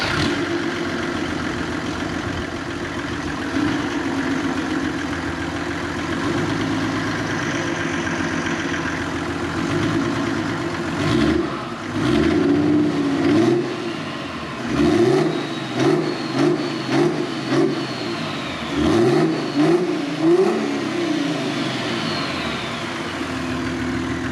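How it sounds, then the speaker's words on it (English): A Mercedes OM606 diesel engine fitted in a Nissan Silvia S14 idles with a rough, loud rumble, then rises and falls through a series of sharp revs in quick succession. "Not many diesels rev like these fuckers do."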